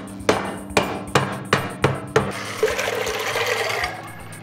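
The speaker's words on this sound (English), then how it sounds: "So I'm gonna hammer this down and make sure that it's sealed." A mallet strikes a paint can lid six times in a steady rhythm, each hit sharp and ringing, followed by a sustained hissing rush of steam.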